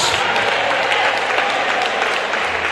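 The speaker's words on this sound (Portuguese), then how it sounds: "eu quero ouvir bastante palmas, misturado com glória a Deus" Loud, dense applause from a church congregation during a worship service, a continuous roar of clapping close to the microphone with a low hum beneath and no pauses.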